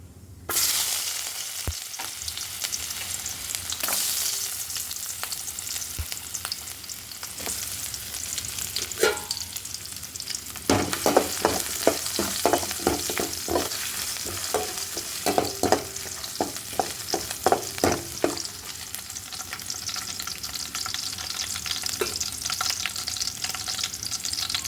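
Shallots and onions frying and being stirred in a pan, a constant close sizzle with bursts of rhythmic scraping and clattering from stirring, louder in the middle stretch, with no talking.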